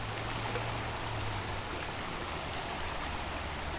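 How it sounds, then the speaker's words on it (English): Floodwater rushes through a creek after a tropical storm in Virginia, a steady broadband roar, moderately distant and continuous, with a low rumble underneath and no voices. "There's just something rather tranquil about listening to the rushing water."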